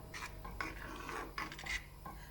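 A spoon scrapes and rubs through yellow rice in a pot in a few short rasping strokes, close and fairly quiet, with no talking.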